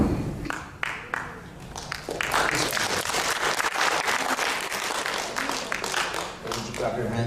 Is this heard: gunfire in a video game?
no